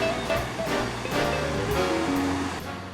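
Ocean waves break steadily on the rocky coastline at Point Joe in Monterey, a continuous close surf wash with repeated surges.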